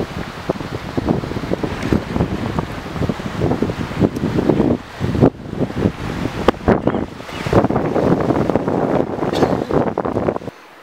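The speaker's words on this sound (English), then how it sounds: "It is way too windy to fish here." Strong gusting wind on a lake during a fishing outing roars and buffets the microphone continuously, with water washing underneath, before cutting off abruptly at the end.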